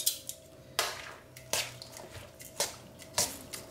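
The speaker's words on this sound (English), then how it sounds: "So I'm gonna toss this together just to marinate all those flavors." Green papaya salad is tossed in a bowl, giving sharp clinks and scrapes about every half second to one second against a faint wet mixing sound.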